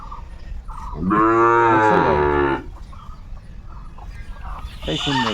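Sahiwal cattle at a farm give a loud, drawn-out moo close by, then a second moo begins a few seconds later, with voices and other farm sounds faintly in the background.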